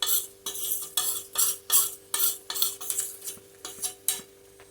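Ground cumin, coriander, turmeric and Kashmiri chilli powder go into a pan and get stirred, a spoon scraping and clinking against the metal in about a dozen regular, fairly loud strokes with no voices.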